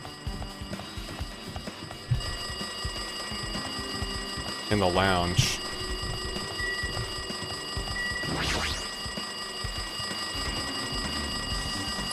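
A telephone rings in the lounge of Danganronpa 2: Goodbye Despair, a repeated electronic ringing layered over steady game music, with speech briefly in between.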